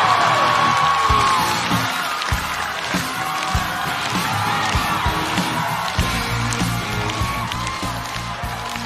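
A comedy stage audience claps and cheers to welcome a performer, a loud crowd swell of applause with scattered whoops that holds steady throughout.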